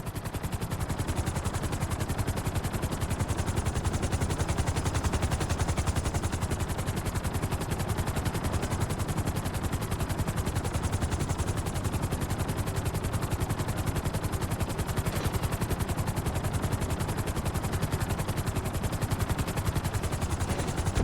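A helicopter in Grand Theft Auto V descends onto a helipad, its rotor producing a dense, steady, loud roar that holds without a break throughout.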